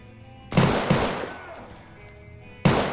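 Pistol shots from a .45 handgun inside the ARMA 3 combat game, three sharp loud reports: two close together early on, then a third after a pause, each with a decaying ringing tail.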